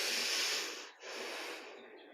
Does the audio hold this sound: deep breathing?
yes